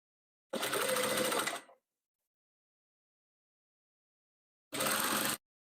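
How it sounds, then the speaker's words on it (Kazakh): A sewing machine stitching patchwork runs in two separate bursts, a steady whirring run of about a second that winds down, then a long silence before a shorter second burst, close and clear with no talk. "Осылай тіге береміз."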